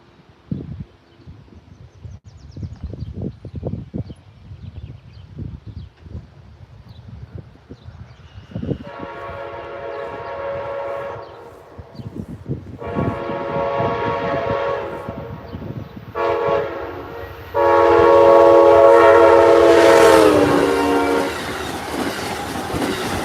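An Amtrak train at a railroad crossing in Gates, New York rumbles closer, then sounds a series of loud horn blasts that swell to a long, close blast as it passes.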